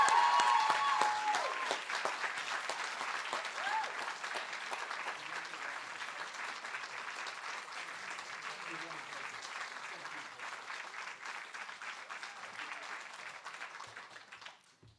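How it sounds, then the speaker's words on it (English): A university audience at an alumni keynote gives loud, dense, sustained applause with scattered voices mixed in. The applause continues steadily for about fifteen seconds before it tapers off at the end. "loud applause and whoops for Professor Williamson."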